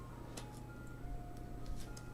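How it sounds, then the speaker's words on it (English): An ice cream truck's jingle plays faintly outside in summertime, a thin melodic tone drifting along for a couple of seconds beneath a steady low room hum. "I hear the ice cream truck outside"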